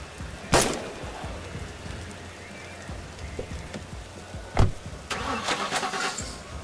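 A car engine cranks and catches in The Last Stand: Aftermath, with a sharp burst near the start, another loud hit past the midpoint, then a rattling, rain-like idle running steadily to the end.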